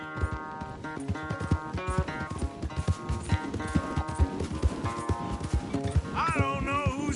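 Horses gallop in a race in the video game Red Dead Redemption 2: rapid, steady hoofbeats pound beneath a dense, swelling musical score, with brief voices over them.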